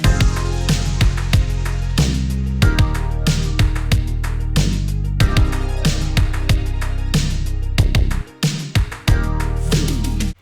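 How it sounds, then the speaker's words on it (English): 1980s-style drum kit samples play in FL Studio as a punchy programmed beat with booming kicks, sharp snares and ticking hi-hats, loud and steady, cutting out abruptly near the end. "80s kits, you know, kind of sound like this."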